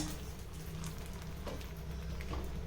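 Mustard seeds and dried red chillies sizzle in hot oil for a tempering, a steady close crackling fry with occasional small pops and no voices.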